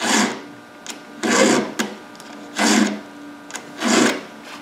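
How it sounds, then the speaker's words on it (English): A hand file is drawn across a chainsaw chain's cutters in four slow, even rasping strokes, close and loud, with short pauses and light clicks between strokes. "what we're doing is basically is going to be moving a file"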